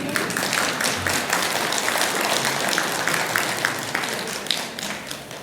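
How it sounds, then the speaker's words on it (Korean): Temple audience at a Buddhist dharma talk at Bulgwangsa breaks into sustained applause, a dense crowd of hand claps that holds steady before thinning out at the end. "박수 치신 분들은 복 많이 받으십시오"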